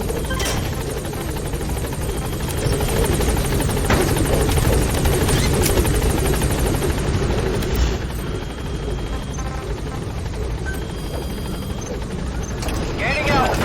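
Pequod, the support helicopter in Metal Gear Solid V: The Phantom Pain, holds at a landing zone with a loud, steady rotor thrum and engine whine that runs throughout, with faint mechanical clatter beneath.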